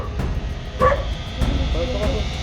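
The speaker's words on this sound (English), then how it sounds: "I see another big scary dog." A big dog barks outdoors on a street in Guanajuato, Mexico, a few short scattered barks at moderate distance over road and ambient noise.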